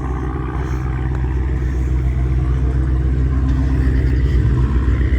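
Mopar race cars at a drag strip idle and rumble steadily as they roll up into position, a loud, continuous low engine drone with light clatter and no clear individual revs.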